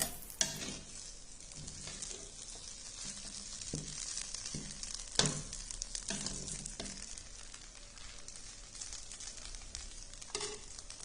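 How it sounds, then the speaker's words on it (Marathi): Kanda poha with browned peanuts is sautéed and stirred in a pan: a soft continuous sizzle with repeated scraping stirs and a few sharper clinks of the spoon against the pan, close up, with no voices. "आता मी 2 मिनिटं परतून झालेले आहे"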